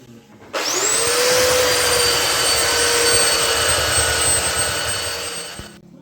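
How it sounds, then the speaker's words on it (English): Electric sander running steadily on a wooden mantelpiece, a loud close motor whine that spins up sharply, holds an even drone for several seconds, then winds down, with no talking. "Ready for the sander."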